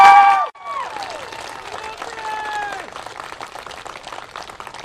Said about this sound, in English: Let us begin our evening with a round of applause for our graduates.